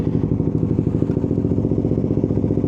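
Suzuki GSX 150 motorcycle engine idling with the clutch pulled in and first gear selected, a steady, close, loud low-pitched rumble with an even rapid pulsing throughout, no talk.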